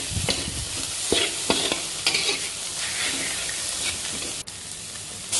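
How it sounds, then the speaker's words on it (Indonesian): Cut carrots stir-fried with egg in a pan crackle with a bright, steady sizzle, while a spatula scrapes and knocks against the pan in a few distinct strokes, close up with no speech. "Kita tumis bentar."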